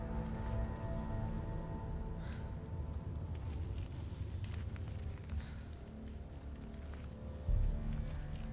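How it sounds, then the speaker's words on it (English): Steady rain in the video game Hellblade: Senua's Sacrifice pattering on a surface, a dense, even hiss with scattered drops throughout, fairly close and continuous. "the sound of the rain is so nice"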